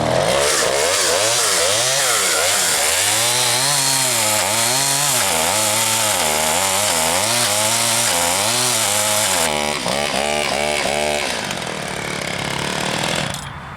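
A chainsaw whose chain keeps tightening runs loud and continuous, its engine pitch rising and falling in repeated revving waves before easing near the end, with no talk.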